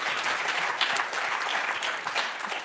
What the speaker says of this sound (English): she was applauding you